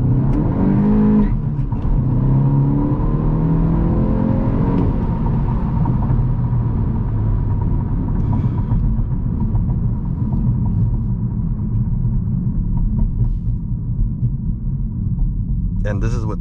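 A Volkswagen Golf GTI Mk8 with a Stage 3 tune, an upgraded clutch and upgraded tires accelerates hard. The engine roar rises through the first seconds and then holds as a loud, steady drone.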